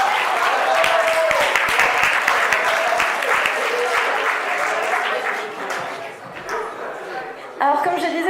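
An audience at an anime convention award ceremony breaks into loud, dense applause that tapers off toward the end, with a few voices audible underneath.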